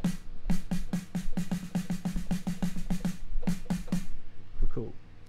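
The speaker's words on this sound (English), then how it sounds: "So that is the snare drum" Snare drum hits from a keyboard repeat in a fast steady run, pause briefly, then return for a few more strikes, followed by a short spoken voice at the end.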